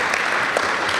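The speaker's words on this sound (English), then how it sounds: "Give a round of applause to him." Audience applause at a satsang gathering in New South Wales: a dense, steady wash of clapping from many hands, fairly loud and continuous for about a second, with no voices over it.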